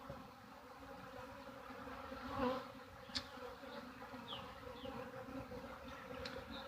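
Honeybees buzzing around a hive split in a 10-frame deep box, a soft, steady droning hum with occasional individual bees passing close, faint overall and without talk.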